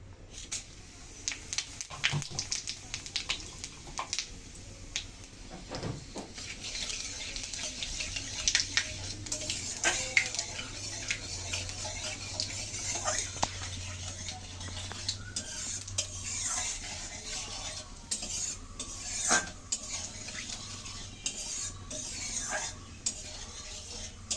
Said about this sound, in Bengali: এই সবজির জন্য আমি ফোড়নে দিয়ে দিচ্ছি তেজপাতা, শুকনো লঙ্কা আর কিছু পাঁচফোড়ন।